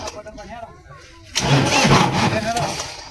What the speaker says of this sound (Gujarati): તમે ટ્રેક્ટર તો ચાલુ કરો ફટાફટ